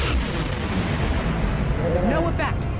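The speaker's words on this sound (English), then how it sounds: "Target that ship and fire all weapons." Starship weapons fire in the space combat game Star Trek Online, a dense, continuous barrage of booming blasts and bursts with rising zaps near the end, loud and sustained throughout.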